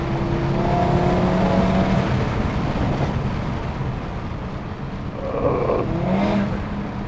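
Audi RS3 engine revving under load, a steady loud rasping drone heard from inside the car that eases slightly midway and then swells again toward the end.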